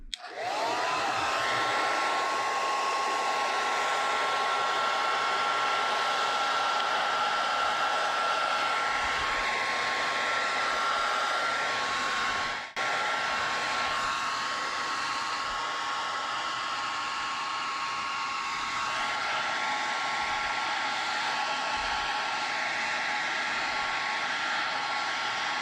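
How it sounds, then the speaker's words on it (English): A hair dryer runs steadily for about 25 seconds, heat-shrinking the wrap on a DIY Li-ion battery pack for long-range FPV, with one brief dip midway. It is a loud, continuous whooshing hum with a faint whine. "just to shrink it with a hairdryer now"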